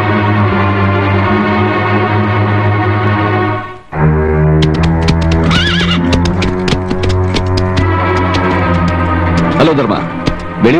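A horse whinnies loudly and steadily over a sustained musical backdrop in a Tamil film scene, then sharp clopping hoof strikes and further neighing follow after a brief pause.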